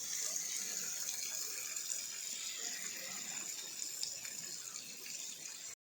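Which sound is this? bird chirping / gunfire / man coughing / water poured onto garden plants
water poured onto garden plants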